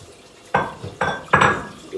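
Clean dishes being set into a dishwasher: three or four sharp, close clinks and clatters of crockery in quick succession, with no talking.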